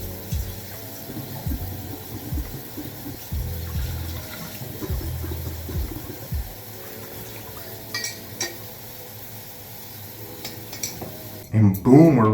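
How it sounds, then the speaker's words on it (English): Water rinses residue off a glass bowl piece, a steady running stream with soft clunks of glass handled underneath, ending in a brief louder splash and clatter. "Always got to rinse off the residue."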